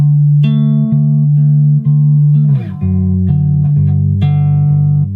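A bass riff plays alone, a steady run of deep, sustained notes shifting pitch every half second or so, loud and close.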